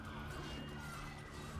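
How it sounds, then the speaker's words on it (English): Emergency sirens passing outside a room during a Heroes of the Storm gaming session, a faint wailing tone under the game sounds, steady across the short stretch. "I apologize for the sirens outside."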